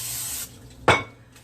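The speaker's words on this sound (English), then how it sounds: "Spray the pan." A single short hiss of cooking spray onto a cake pan for a carrot cake, close and sharp, coming after a quieter stretch of faint background noise.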